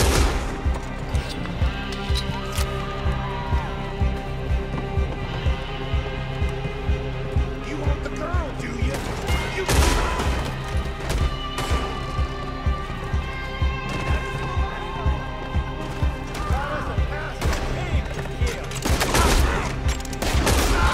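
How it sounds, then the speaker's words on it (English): Gunfire in the Red Dead Redemption 2 video game, with repeated sharp blasts spread throughout amid game effects and background sound, loud and close, with no words spoken over it. "shotgun, man."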